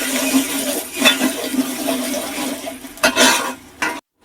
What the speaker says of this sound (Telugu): ఇందులోనే ఆడబెట్టుకున్న ఉల్లిపాయ ముద్దను అయితే వేసుకోవాలి.